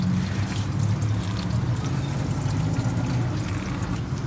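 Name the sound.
coolant draining from Jeep Wrangler radiator hose into container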